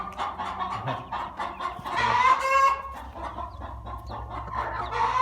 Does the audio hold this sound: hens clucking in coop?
yes